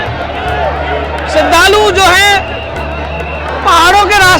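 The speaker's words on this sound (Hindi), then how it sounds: "चारों तरफ भयंकर भीड़ है, भयंकर भीड़।" A huge, dense crowd of devotees mills around the entry gate at Laddu Mar Holi in Barsana, a steady babble of many voices with someone talking close over it in bursts.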